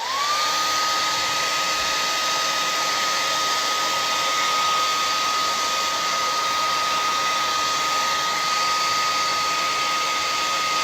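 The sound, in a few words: hair dryer blow drying paint on canvas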